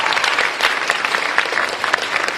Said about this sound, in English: Let's have a nice round of applause for that.